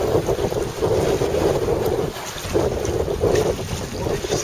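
Strong wind buffets the microphone in a steady, loud roar while kayaking on the eastern shore of Lake Biwa, with lapping water and waves beneath it, briefly easing near the middle before gusting again.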